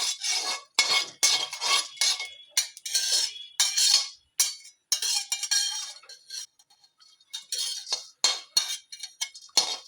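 Dry fruits roasting in ghee in a pan, stirred steadily with a metal spoon that clinks and scrapes against the cookware in quick, repeated strokes. The clatter is fairly close, with no talking.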